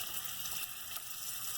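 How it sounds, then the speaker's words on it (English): Prosciutto-wrapped sea scallops sizzle gently in a hot pan, a soft, steady, even hiss of frying with no voices. "As soon as you put them in the pan, you'll hear a little sizzle."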